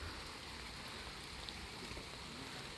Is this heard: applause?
no